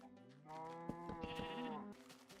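A single sheep in Minecraft bleats in a long wavering cry, fairly close, followed by a brief quieter pause.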